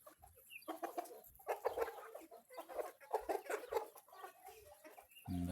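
Growing young chickens, cockerels among them, cluck and chirp in repeated short bursts close by, with a brief louder call at the very end.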